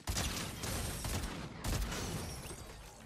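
Explosions from bombs thrown in the Fortnite video game boom loudly in two dense, crashing bursts with rumbling debris trailing off between them.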